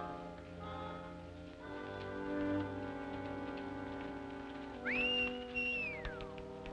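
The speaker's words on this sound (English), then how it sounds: "Stop whistling for that horse." A person whistles for a horse, a quiet rising-and-falling whistle near the end under a faint, steady background hum, with no talking.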